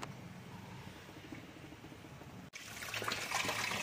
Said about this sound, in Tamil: இந்த மாதிரி சில் தண்ணி நல்லா ஊற்றிக்கணும்